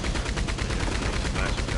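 Rapid, continuous gunfire in Red Dead Online, a dense burst of loud overlapping shots hammering away without pause for the whole stretch.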